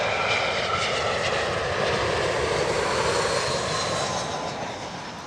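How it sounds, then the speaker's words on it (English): An Aer Lingus Airbus A321neo arrives at Heathrow from Dublin, its engines a loud, steady roar that holds throughout before easing slightly at the end, with no talk over it. "That one, an A321neo inbound from Dublin."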